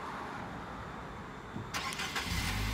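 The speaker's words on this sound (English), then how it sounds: "I don't know if you heard, but the engine just started." A car engine fires up by remote start after the car is locked, a quiet hiss giving way to a sudden crank and catch, then a low steady idle close by.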